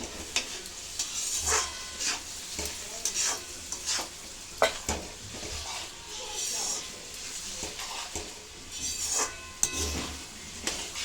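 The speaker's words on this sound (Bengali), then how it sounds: "পেঁয়াজগুলো দেখো হালকা ভাজা হয়ে গেছে" Onions frying lightly in a wok over a raised gas flame, a soft continuous sizzle broken by repeated scraping stirs and occasional clinks of the spatula against the pan, with faint talk in the background.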